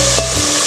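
Mutton curry batter sizzling in a pan while being stirred, a steady loud close frying hiss with scraping strokes and no talk.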